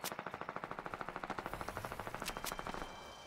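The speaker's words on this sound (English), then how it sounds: "Combat assault rifle." Combat assault rifle fire in the Fortnite video game: a rapid, rhythmic burst of many sharp shots at an even pace, loud and close, with a couple of separate cracks near the end before it tails off.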